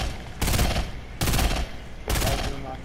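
Rapid automatic gunfire in the video game Fortnite, three loud sustained bursts of shots a fraction of a second apart, close and dominant, with faint voice underneath.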